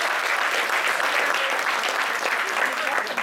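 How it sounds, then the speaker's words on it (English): Wedding guests give the hosts a warm round of applause during a best man's speech, with full, continuous clapping from a large room throughout. "Let's give them a round of applause."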